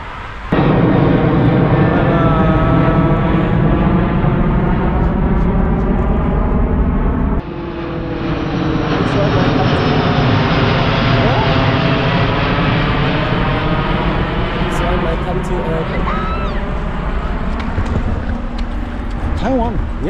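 An airplane passes overhead near Narita airport, its jet engine roar loud and sustained, rising and shifting in tone as it flies over the viewing hill, with people talking underneath.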